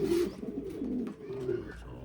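Pigeons coo softly at close range in a backyard, low repeated throaty calls running continuously.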